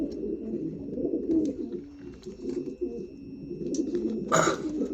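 Red Janssen racing pigeons coo in a low, continuous murmur from a flock close by, with a brief sharper flutter or call near the end.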